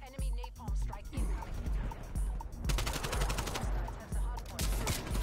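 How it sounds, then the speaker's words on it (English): Napalm strike in Call of Duty Cold War, heard as a barrage of rapid gunfire and repeated explosive bursts with crackling fire, fairly close and steady over several seconds. "Enemy napalm strike incoming."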